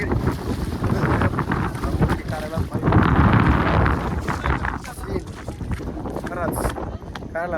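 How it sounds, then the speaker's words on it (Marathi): Strong gusting wind roars and buffets the microphone on the summit of Brahmagiri mountain near Trimbakeshwar, Nashik, rising in a loud surge midway, while a person talks in between. "एवढं जोरात या ठिकाणी वारा सुटलेला कारण आपण खूप वरती"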